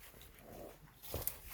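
A dog playing through a gate makes faint, brief snuffling and whimpering noises, quiet and close, ending in a short yip.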